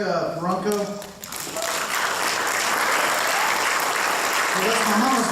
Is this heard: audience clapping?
yes